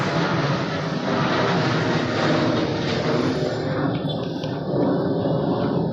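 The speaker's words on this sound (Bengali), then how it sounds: "কিছুক্ষণ পর পর বিমান উড়ে যাচ্ছে," An airplane passes overhead near a railway crossing, a loud continuous engine roar that fills the whole stretch, slightly easing toward the end.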